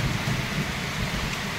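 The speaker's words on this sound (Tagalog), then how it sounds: "Umuulan mga kabukal, oh." Steady rain falling outdoors by a pig pen at a house, a dense continuous hiss and patter close by with a low rumbling undertone, loud and unbroken, with no voices.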